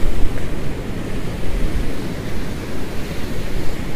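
Loud, continuous roar of rough storm-surge waves churning and crashing on the Baltic Sea coast at Usedom, with wind rushing over the microphone throughout.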